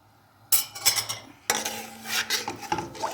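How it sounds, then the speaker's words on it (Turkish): A spoon scrapes and clinks against a bowl while a mixture for Maraş pepper pickle is stirred to dissolve, in two close bursts of rapid metallic scraping with no voices. "Bunu şimdi eriyene kadar biraz karıştırayım."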